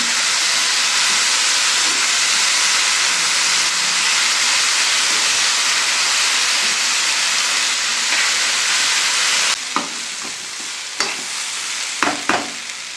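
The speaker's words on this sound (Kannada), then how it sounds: "ಎಣ್ಣೆಯಲ್ಲಿ ನೋಡಿ ಈ ಥರ ಉರಿತಾ ಇದ್ದೀನಿ" Ingredients fry in hot oil for sprouted green gram sambar, a loud, steady sizzling hiss that holds throughout, with sharp spoon scrapes and knocks breaking in toward the end.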